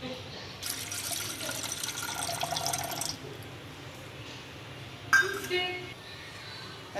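Bowl of water poured into a cooking pot to make a gram-flour dhokli curry, a soft splashing pour lasting a few seconds, followed by a brief clink and quieter dripping, close and faint.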